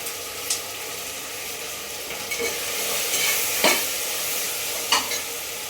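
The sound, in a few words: ginger garlic paste frying with onions and peas in pan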